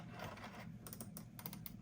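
Keys on a worn PowerBook 150 laptop keyboard are pressed in quick, irregular clicks, a soft cluster of close taps over a faint steady hum.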